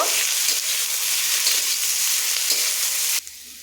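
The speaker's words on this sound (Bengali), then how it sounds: "পেঁয়াজগুলোকে আমি ভালো করে তেলের সাথে ভেজে নেব" Onions fry in oil in a pan with a loud, continuous hiss and sizzle that suddenly drops to a quieter simmer near the end.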